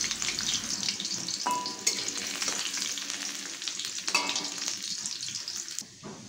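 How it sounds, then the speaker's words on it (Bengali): Chopped garlic sizzles in hot oil in a wok, a steady bright crackle that holds throughout, broken by a couple of stirring scrapes, close up and with no talking. "এই তেলের মধ্যে দিয়ে দিচ্ছি রসুন কুচি।"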